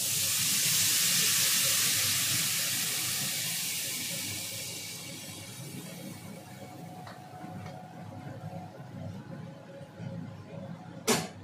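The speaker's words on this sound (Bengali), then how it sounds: "আর তরকারিতে জল দিয়ে দেবো এবার" Water poured into a curry cooking on the stove gives a broad, steady rushing hiss that is strongest at first and then eases into a softer simmering wash, with a small clink near the end.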